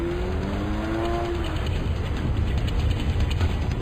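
A car speeds away on a road in Montserrat, fleeing toward higher ground from an eruption avalanche. A steady, loud engine rumble and road roar hold throughout, and a rising engine whine fades early on.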